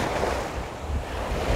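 Sea waves wash onto the shore at Anapa on a windy early morning, a continuous rushing surf with wind buffeting the microphone, moderately loud and unbroken, with no voices.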